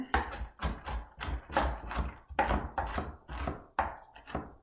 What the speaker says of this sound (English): Just chop them up a bit.